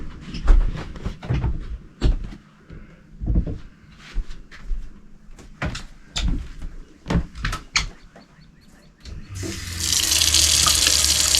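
Several knocks and clatters, then water suddenly gushes from a tap in a steady, loud hiss that continues to the end.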